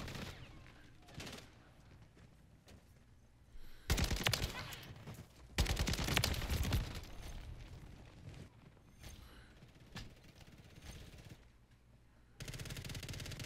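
Automatic weapon fire from the JAK Requiem in a video game, sustained bursts of rapid shots alternating with quieter stretches of ambient game noise.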